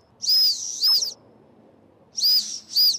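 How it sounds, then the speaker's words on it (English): Shrill, high-pitched whistle on a tactical pen, blown in four short loud blasts: two close together, a pause, then two more, with no talk. "the last thing that this pen has, this whistle feature"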